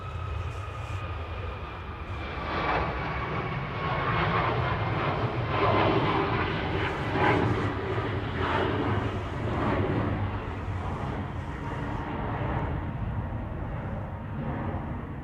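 A Ryanair Boeing 737 MAX 8 departs Manchester Airport for Plovdiv, its jet engines a steady, full roar with a thin whining tone running throughout, holding loud and even from start to finish with no voices.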